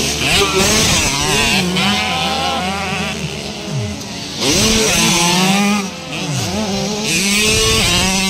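Small 50cc racing motorcycles in a 65cc category final heat at President Roxas, loud buzzing two-stroke engines revving and shifting up and down as they pass close, with crowd noise underneath.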